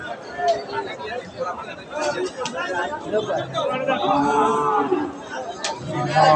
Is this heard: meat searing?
no